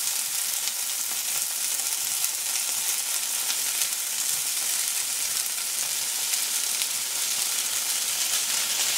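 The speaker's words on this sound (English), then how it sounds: "the next step is to put your tofu in a pan over medium-high heat." Tofu frying in a pan over medium-high heat, with a steady, dense sizzle that crackles evenly throughout at a close, constant level, without any voices.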